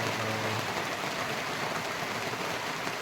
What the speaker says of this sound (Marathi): बघू शकतो तुम्ही, पाऊस चालू आहे